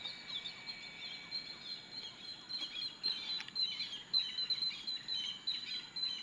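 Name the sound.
birds singing outdoors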